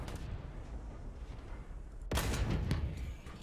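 A Turan II tank gun in a tank combat game fires after a low rumbling stretch, one heavy loud blast followed by a burst of rapid crackling reports.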